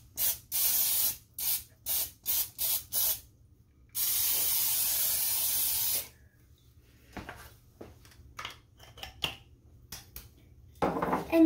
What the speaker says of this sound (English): spray your 9x13 pan with cooking spray